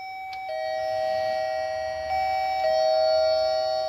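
A newly installed apartment building entrance intercom panel rings a steady electronic doorbell tone, repeating several times as the chime continues alone over faint background.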